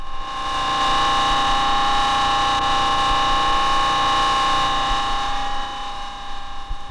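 A hydraulic pump runs at 3000 PSI, giving off a loud, steady whine with a constant high tonal hum over a broad mechanical rush, close and unbroken before it eases slightly near the end.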